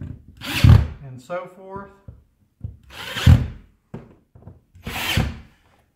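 A power drill drives screws while mounting add-on blinds on a patio door, firing in three short, loud bursts spaced a couple of seconds apart, with someone talking between them.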